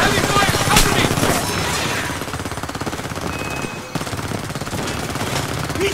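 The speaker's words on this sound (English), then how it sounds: "Under heavy fire!" Dense, continuous automatic gunfire and explosions fill a battle in the video game Homefront, rattling bursts and sharp cracks layered loudly throughout, with shouting voices mixed into the chaos.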